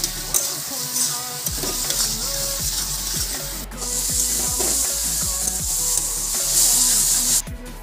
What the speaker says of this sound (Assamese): মই পনীৰ বনাম পনীৰ বনাবলৈ বিলাহীখিনি ভাজিছোঁ এতিয়া